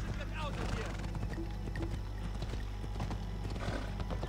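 A horse gallops in Assassin's Creed Odyssey, its hooves clip-clopping in a quick steady rhythm over a low rumbling game background, close and loud, with a voice talking over it.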